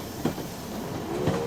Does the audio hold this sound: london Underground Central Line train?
yes